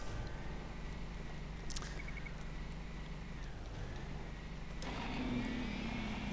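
A police car engine in the Ignition racing game drones steadily throughout, a low constant hum with a brief sharp chirp early on and a rising whine near the end as another vehicle noise swells.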